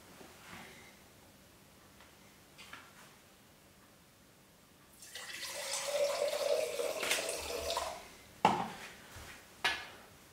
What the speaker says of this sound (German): wenn ich Wasser schütte, während wir ein Bild machen